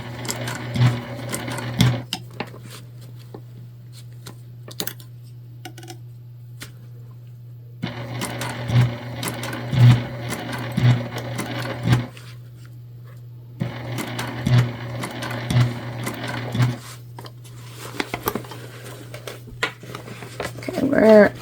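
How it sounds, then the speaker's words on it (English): A sewing machine runs in several steady stitching bursts while sewing a fabric gift bag, with pauses between runs, a low constant hum throughout and a voice speaking over parts of it. "we're just taking it one stitch at a time"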